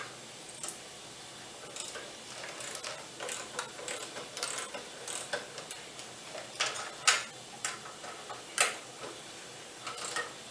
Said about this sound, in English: Then we're gonna remove these bolts. They're gonna be a 14 millimeter.